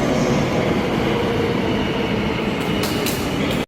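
An Incheon Subway Line 1 train runs with a continuous loud rumble and rail noise, steady throughout and cutting off abruptly at the end.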